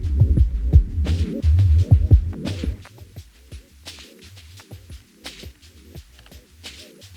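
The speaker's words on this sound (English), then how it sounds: "Now let's go into the Warble." Elektron Analog Heat FX warble effect swirls over a throbbing low bass loop, loud at first then thinning to softer pulsing beats with wobbling, modulated tone and no talking.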